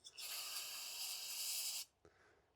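Aerosol cleaner sprayed into the carburetor jets of a Husqvarna pressure washer: one close, loud, steady hiss lasting under two seconds, ending with a brief click.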